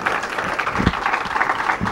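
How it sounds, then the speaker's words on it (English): A studio audience on a televised bowling show claps for a bowler, a dense continuous round of applause at full strength from start to finish. "a round of applause for Scott Richardson."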